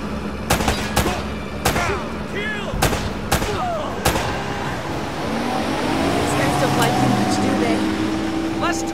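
Gunfire in the video game Uncharted: Drake's Fortune: sharp, loud shots ring out at irregular intervals, then give way to a rumbling vehicle engine, with speech heard throughout.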